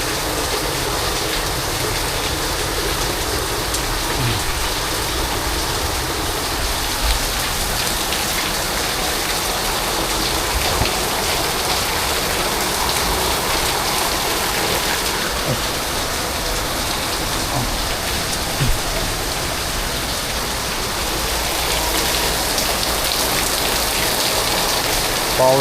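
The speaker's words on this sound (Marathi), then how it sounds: "पाऊस बघा मित्रांनो खूपच जाम झाला." Heavy monsoon rain pours down in Mumbai as a dense, loud, unbroken hiss of drops hitting surfaces for the whole stretch.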